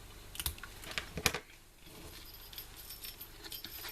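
A small jingle bell on a thread is handled while being tied for hanging on a Christmas tree, giving a few bright light jingles and rattles near the start, then quiet fiddling.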